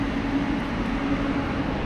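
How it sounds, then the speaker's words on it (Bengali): A train, probably in India, rumbles steadily with a low engine drone and a constant mid hum, close and fairly loud throughout with no talk. "আর এই হচ্ছে ট্রেন।"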